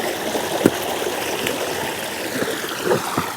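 A fresh mountain stream flows steadily nearby, a continuous watery rush with a few brief splashes and gurgles standing out.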